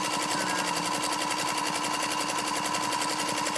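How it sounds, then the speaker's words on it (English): A sewing machine stitches continuously, a loud, close, rapid rhythmic clatter with a steady hum throughout and no talking. "So the machine is just stitching along beautifully."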